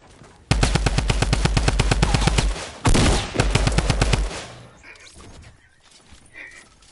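A new gun in a video game fires in two long, fast automatic bursts of evenly spaced loud, close shots, then the sound drops to faint background noise.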